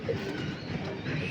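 A racing pigeon in a cage, sitting on its eggs, gives soft low coos close by while people talk in the background.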